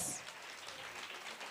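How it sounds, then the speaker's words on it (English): A crowd at the National Teaching Awards claps in brief, dense applause that fills the whole short moment, steady and fairly close, with no speech over it. "Let's give her a round of applause."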